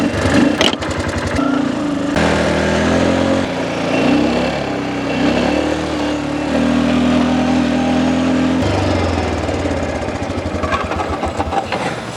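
A small ATV engine runs steadily close by during a test, a buzzy mid-pitched drone with a few rev changes partway through and a rougher patter near the start and end, with no talking.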